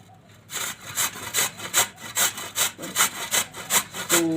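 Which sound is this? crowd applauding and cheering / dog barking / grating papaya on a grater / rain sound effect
grating papaya on a grater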